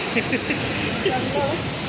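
Ezharakund waterfall in Kannur, a constant broadband rush of falling water with faint voices over it.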